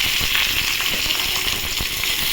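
Long potato strips frying in hot oil with dry chili and black cumin (kalo jeera), a loud continuous sizzle and bubbling, close up, with occasional soft thumps and no talking.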